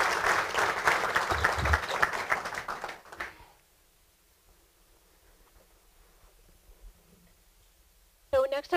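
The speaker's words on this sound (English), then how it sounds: "Let's give Brian a round of applause." Loud audience applause at a City of Marysville, Ohio meeting for about three seconds, dense clapping that stops abruptly, followed by near silence and a brief voice at the end.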